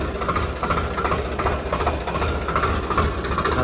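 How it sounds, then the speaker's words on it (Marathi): A farm tractor's diesel engine runs steadily nearby, a loud continuous low rumble with a slight pulsing throb and no talking over it. "आता ट्रॅक्टर सोडला"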